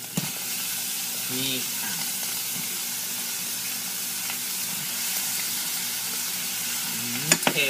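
Thai pea eggplants stir-fry in a hot pan with a steady, close sizzle and crackle, stirring scrapes throughout, and someone speaks briefly over the cooking near the start and end.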